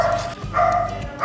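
A household dog barks several times, loud and close, in quick bursts with short pauses between them.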